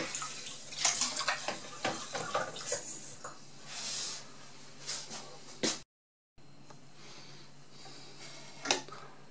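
Water runs from a tap into the water bath of a Jobo CPE 2 film processor, splashing and gurgling close by in uneven bursts, then cutting off briefly before a quieter hiss with a final splash.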